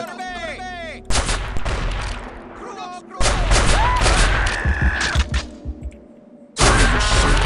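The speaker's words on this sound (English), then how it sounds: "apparently someone had a flare pistol on hand" Flare pistol fire in Blood II: The Chosen, loud close blasts with crackling tails in several bursts, separated by brief quieter gaps, over in-game background sound.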